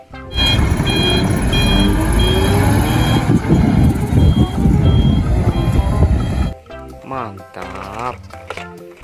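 A toy tow truck sounding repeated electronic reversing beeps over a loud motor rumble, close and continuous, then stopping; a person speaks briefly afterward.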